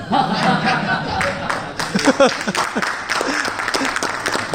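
Seminar audience breaking into loud, sustained applause, clapping mixed with chuckles and scattered voices throughout.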